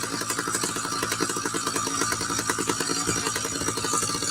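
A motorized bicycle engine with no muffler runs loud and raw nearby, a harsh continuous rattling buzz with rapid pulsing firing beats that persists throughout.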